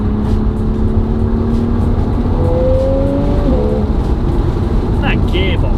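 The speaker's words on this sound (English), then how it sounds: "Just listen to that exhaust." Porsche 911 Targa 4 GTS on the move through village roads, its exhaust giving a steady, loud drone with a rising engine tone as revs climb gently, while someone talks over it.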